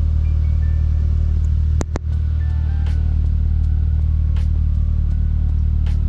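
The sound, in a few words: Nissan Sentra B13 engine running while warming up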